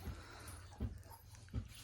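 Newborn puppies give soft, faint whimpers, three short whines spaced evenly apart against a quiet background.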